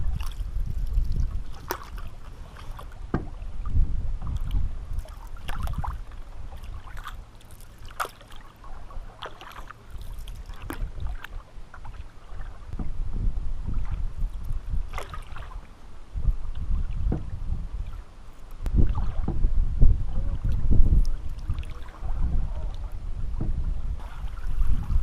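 Steady canoe paddle strokes and water swishing around the small boat on a pond, with light wind buffeting in the background and no talking.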